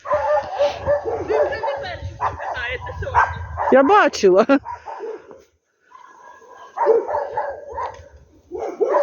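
A tied-up dog barks and yips in quick bursts close by, outdoors in snow, mixed with overlapping conversation and a few higher whining cries.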